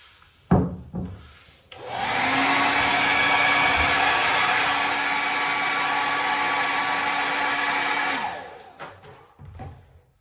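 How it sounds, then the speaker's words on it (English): A hair dryer switches on after a few knocks and blows with a steady whoosh and whine for several seconds, then shuts off, up close, drying a fiberglass shower repair. "if you're blow drying it, you don't need to bake this thing"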